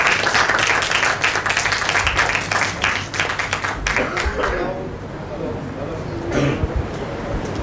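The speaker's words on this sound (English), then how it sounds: "May we have a huge round of applause for Swamiji." Applause from an audience at a felicitation ceremony for Swami Sivananda, a dense patter of many hands clapping through the first four seconds, then thinning into scattered claps and crowd murmur.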